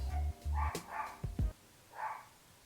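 Pet dogs bark indoors, with a few short yips and barks spaced out over a couple of seconds, heard at moderate distance over a low hum.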